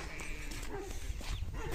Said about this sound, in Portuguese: tem um latido feio